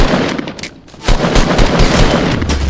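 Rapid gunshots in Fortnite, a loud close burst of shots, a short pause, then another run of sharp cracks in quick succession.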